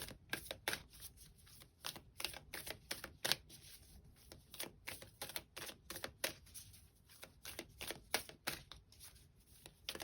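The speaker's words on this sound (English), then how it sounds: "I'm going to pull a second guidance card" A deck of guidance cards shuffled by hand and a card pulled out, heard as quick, close, papery riffles and flicks in an uneven rapid rhythm, quiet and with no talking.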